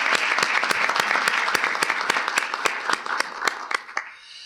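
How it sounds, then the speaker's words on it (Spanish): A small audience at a conference on space exploration gives a round of applause after a speaker, with distinct, evenly spaced claps that thin out and fade near the end. "Un aplauso, por favor."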